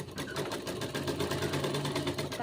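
A sewing machine runs steadily, stitching a suit's shoulder seam with a fast, even, rhythmic whirr and clatter that continues for the whole stretch without pause.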